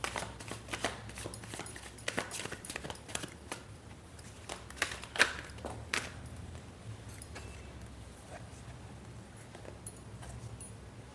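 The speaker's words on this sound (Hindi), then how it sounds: "तो हम कार्ड शफलिंग स्टार्ट करते हैं।" Tarot cards are shuffled by hand in a quiet room, giving a steady run of soft, quick riffling flicks and slaps that slowly thin out.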